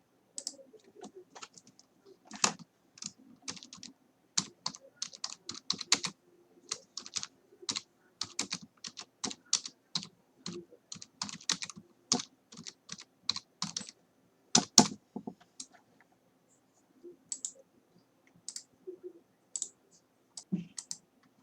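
Quick bursts of typing on a computer keyboard while building a Power BI dashboard, close, crisp key clicks in irregular runs with short pauses and no voices.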